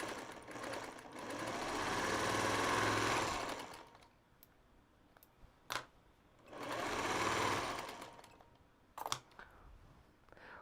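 Sewing machine joining quilt scraps in two long, smooth whirring runs separated by quiet gaps with a few sharp clicks, close and fairly soft.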